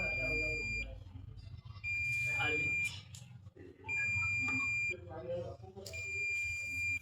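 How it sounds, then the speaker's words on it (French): Gas detector buzzer on an air quality monitoring station sounding an alert: four repeated high, steady electronic tones about a second long, alternating with someone talking close by. "Et il y a le retentissement du buzzer."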